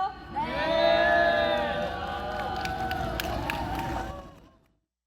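Crowd at a climate justice march cheering, whooping and applauding loudly for several seconds before the noise fades out, with a brief spoken word.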